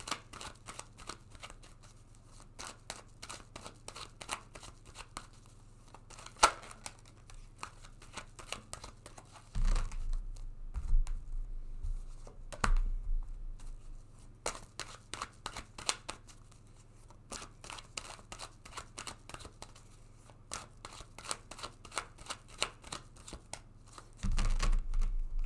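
Tarot cards are shuffled and drawn in a quiet room, with continuous soft riffling, slapping and sliding of cards close by and occasional louder bursts of handling.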